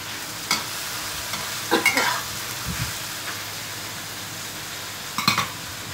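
Spice paste sautéing in a pan for a bottle gourd and anchovy stir-fry sizzles steadily while a spatula scrapes and taps the pan in short bursts; no voices are heard.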